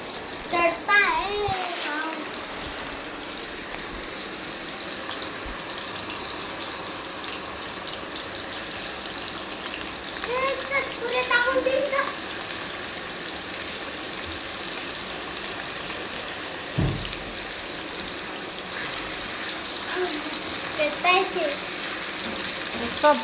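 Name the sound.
French fries frying in hot oil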